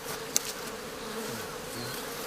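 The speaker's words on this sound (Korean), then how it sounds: "셀 수도 없는 많은 벌들이 여왕벌을 따라 배회한다" A huge swarm of honeybees drifts after their queen near Soyang Lake, making a dense, steady buzzing hum that fills the air without pause, with one brief sharp tick near the start.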